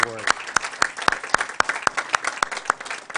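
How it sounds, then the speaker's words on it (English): An audience applauds steadily, dense clapping with a few sharper claps standing out, sustained for a few seconds. "I do want to give him a round of applause"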